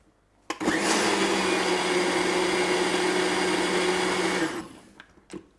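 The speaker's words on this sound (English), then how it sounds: "go straight into the blender" A kitchen blender blitzes dates and pears into a cake mixture, roaring loudly and steadily for about four seconds after a sharp start, then winding down to quiet with a few light knocks.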